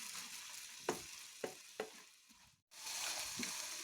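Spring onion fries in a pan over high gas for a Kashmiri dish, a soft steady sizzle broken by about four rhythmic stirring scrapes, then a brief pause before the frying hiss returns.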